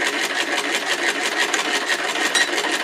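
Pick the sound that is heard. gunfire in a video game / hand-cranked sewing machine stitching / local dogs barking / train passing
hand-cranked sewing machine stitching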